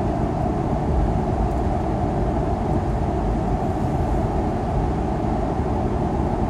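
Car travelling through the Eisenhower/Johnson tunnel under a Colorado mountain: a steady, loud, unbroken road roar that fills the whole clip, with no talking.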